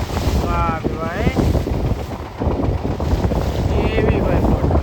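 A fishing boat out at sea after a rainstorm, with strong wind buffeting the microphone and constant water rush throughout, while a voice comes through in places.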